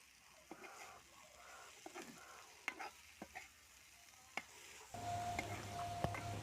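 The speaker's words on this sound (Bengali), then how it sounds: "এখন দিয়ে দিব টুকরো করে রাখা রুটিগুলা, দিয়ে ভালো করে লাল লাল করে ভেজে নেব।" Torn bread pieces fry with egg in a pan, a faint, quiet sizzle marked by scattered sharp clicks of a spatula stirring, then a steadier hum of frying toward the end.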